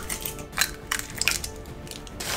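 A few sharp cracks and clicks of eggshells breaking against a bowl rim, close and fairly quiet, with brief pauses between them.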